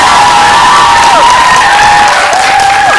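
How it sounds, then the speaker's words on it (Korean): An audience packing a CGV Yongsan cinema claps and cheers loudly for actor Ren (Choi Min-ki) at a film screening Q&A, a dense, close roar of applause with high shouts and whoops rising over it. "다시 한번 최민기 배우님께 박수 한번 부탁드립니다."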